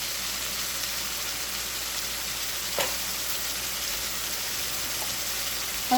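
Ground beef browns in a pan on a stovetop, giving a steady even sizzle and crackle throughout. A faint clink is heard once, and there is no talking.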